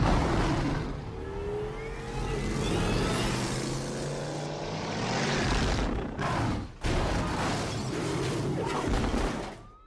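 Car driving off in a Batman Begins film scene, a loud, continuous engine roar with revving and acceleration filling the whole stretch, briefly dipping near the end amid a dense action-movie soundtrack with crashes and booms.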